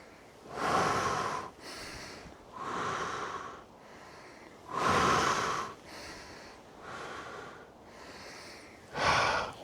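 Slow, deep breaths during a qigong ankle mobility exercise, with loud airy inhales and exhales alternating in a steady rhythm, close and alone.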